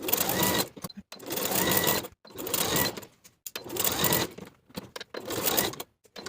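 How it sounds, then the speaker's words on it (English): A sewing machine basts a pant waistband in place, running in five loud, close bursts of rapid stitching separated by short silent pauses, with no voices. "Then we'll baste this main waistband in place from center back to center back."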